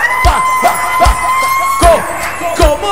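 A crowd at a live show in Salta, Argentina, claps in rhythm with sharp, evenly spaced beats while people cheer and shout over steady music with a sustained tone.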